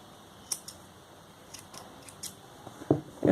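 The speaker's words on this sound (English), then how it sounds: "You can snip off this color." Scissors snip crochet yarn in a few sharp, quiet cuts, a couple of separate clicks followed by small handling noises close by.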